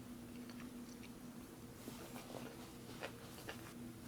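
Crunchy fried rice from a 2017 Chinese PLA Type 13 field ration being chewed close up, soft repeated bites and faint crunches over a steady low hum, with no talking.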